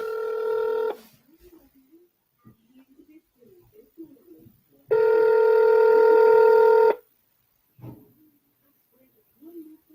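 A phone call is placed: a burst of touch-tone dialing, then a long steady ringback tone, with brief quiet speech in the gaps between them.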